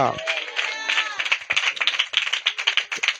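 Scattered hand claps ring out in an uneven patter, building to brisk rhythmic clapping from a small group close by at a Saturday night church worship service.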